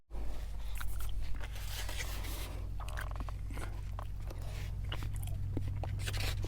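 Close-up chewing and crunchy biting while eating chopped pork loin mixed with mashed potatoes outdoors during overland travel, with steady low background hum throughout.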